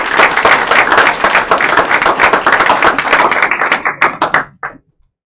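An audience at a career and technical education signing day applauds welding students with dense, steady clapping that thins into a few scattered claps and stops near the end.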